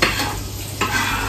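Chunks of meat for spaghetti bolognese sizzle steadily in a hot pan while being stirred, with a continuous loud frying hiss and a brief scraping stir partway through, no voices.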